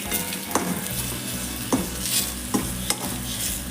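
Makhana (fox nuts) roast over a slow flame while a spoon stirs them in the pan, making a low sizzle broken by a few sharp scraping clicks against the metal.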